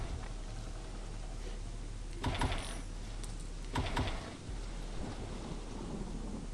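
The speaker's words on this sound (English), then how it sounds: "just listen for the books ringing" Metallic ringing jingles from books in the Roblox Doors game's Backdoor, like keys rattling in a drawer, rising in two short bursts over a steady rain-like ambient rumble, with no talking.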